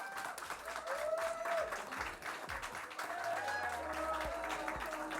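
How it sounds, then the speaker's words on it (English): An audience at a student esports Overwatch finals applauds as runners-up are called to the stage, sustained clapping from a crowd in a large hall, with a presenter's amplified voice heard over it. "Round of applause for them"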